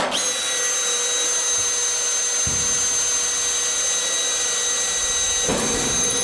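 A power drill runs with a steady high whine while drilling into sheet metal in a factory workshop. The whine is loud and sustained across the whole span, with brief rough bursts where the bit bites through the metal.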